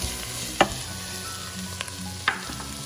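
Onions with green chilli and allspice leaves frying in a pan, a steady close sizzle with two or three sharp stirring clicks and scrapes.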